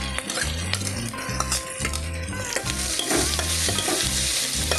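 Onions sautéing in a pan for hotel-style potato masala, a steady close sizzle with repeated scraping and clinking of a spoon stirring against the metal, continuous throughout.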